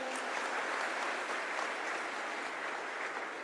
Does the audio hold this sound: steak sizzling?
no